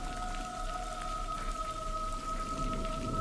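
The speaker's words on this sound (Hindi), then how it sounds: "बारिश और ज़्यादा तेज़ होती जा रही थी" Heavy rain pours in a dense, continuous hiss, with a low rumble of thunder beneath it and no voices.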